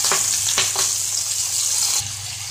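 Chillies hit hot oil for a fish curry, setting off a loud, steady sizzle with a few sharp crackles near the start, close by and without speech.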